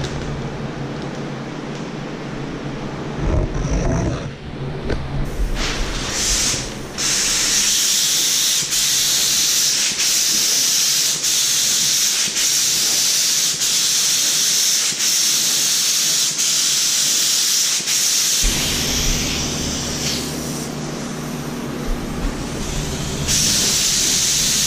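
Spray gun laying black sealer onto a 1964 Impala SS custom, a steady loud hiss running almost without break, with a brief pause and a few short bursts near the start before the continuous spraying resumes.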